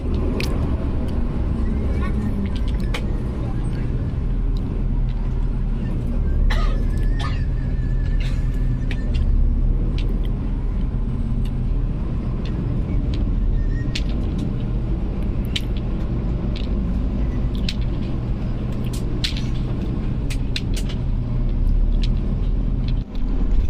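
A PO Haryanto HM 060 bus cruising at night after leaving a roadside restaurant, with a steady loud low engine and road rumble throughout and occasional faint clicks and rattles inside the cabin.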